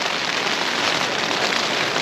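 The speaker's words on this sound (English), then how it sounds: "this rain is just relentless" Steady, relentless rain drums on a tent at a wild camping spot, a dense continuous patter that stays loud and even throughout with no voices.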